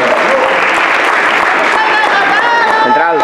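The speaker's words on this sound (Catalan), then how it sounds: "Un aplaudiment, per favor." Loud, dense audience applause at a youth band gathering, continuous clapping filling the clip with voices and whistle-like tones rising over it near the end.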